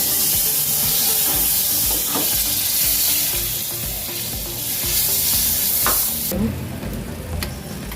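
Butter melting and sizzling in a hot pan before cumin rice is cooked, a loud, steady close-up crackle and hiss with occasional stirring clacks, then a drop in the hiss near the end; no talking.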